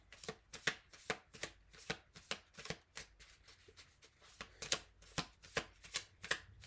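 Tarot cards shuffled by hand and flicked down, a close, quiet series of crisp papery slaps and riffles in an uneven but steady rhythm, alone without talk.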